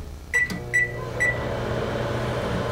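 A microwave oven heating peanut brittle gives three short beeps as its buttons are pressed, then settles into a steady low hum that carries on to the end with no talk.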